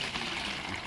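Nannari sarbath, a homemade sweet drink, is being poured, giving a steady close trickle of liquid that runs without a break for under a second.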